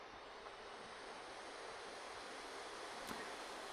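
Acer Predator Triton 500 gaming laptop fans running at max speed, a constant broadband whoosh of rushing air, steady and fairly quiet, with no talk.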